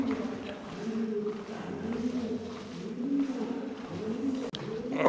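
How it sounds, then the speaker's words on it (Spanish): Pigeons coo repeatedly at the castle of Methoni in the Peloponnese, Greece, with soft, low, rolling calls that overlap steadily for several seconds against faint outdoor ambience. "las palomas haciendo los ruidos que hagan las palomas"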